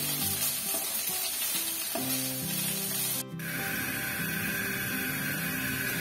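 Chicken for shawarma fries in a pan with a steady, close sizzle and crackle, a brief clatter partway through, then the frying hiss continues evenly.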